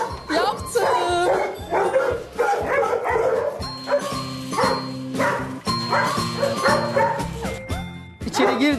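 During dog-training work, a dog barks and yips repeatedly at close range, its calls mixed with a person talking.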